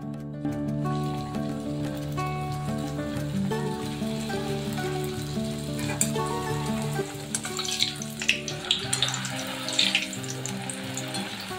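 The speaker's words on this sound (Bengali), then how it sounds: "এবার আমি একে একে ফুচকাগুলো ছেড়ে দেবো তেলের মধ্যে।" Fuchka puris fry in hot oil over a high flame, a steady close sizzle and bubbling with sharper crackles and pops near the end, and no voice over it.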